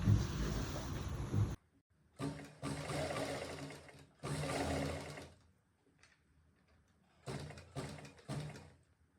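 A sewing machine stitches around a fabric neckline in several fast, buzzing runs of a second or two each, separated by short pauses and quiet handling, close and clear.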